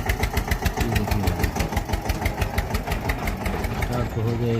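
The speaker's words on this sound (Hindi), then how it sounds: "स्टार्ट तो हो गया एक ही बार में, लेकिन एक ही बंद हुआ ट्रैक्टर।" An Eicher tractor's engine runs at idle with a steady, rapid thumping beat, loud and close throughout.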